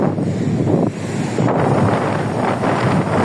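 Sea waves washing ashore at Jūrmala beach in Latvia, a loud continuous roar of surf mixed with heavy wind buffeting the microphone, no voices.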